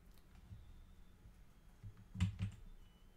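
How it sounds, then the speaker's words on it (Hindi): A handful of soft computer keyboard keystrokes, quiet and close, with a couple of sharper clicks near the end against a faint room hum. "मैं यहाँ टाइप कर देता हूँ"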